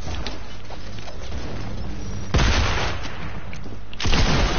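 Gunfire in a video game, with two loud broadband bursts midway and near the end standing out over a steady noisy game background.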